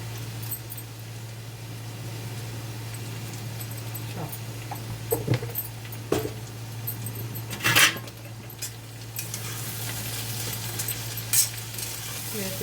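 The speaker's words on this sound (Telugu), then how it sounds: "ఇంకా వేగాలి ఫ్రెండ్స్ దొండకాయలు" Ivy gourd (tindora) frying in a pan with salt and chili powder: a steady, soft sizzle with scattered stirring clinks over a constant low electrical hum.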